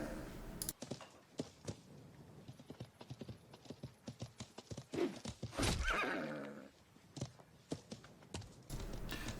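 Hooves of a horse at a medium trot in the medieval game Life is Feudal clip-clop in a steady, close rhythm, with a brief neigh partway through and no talk.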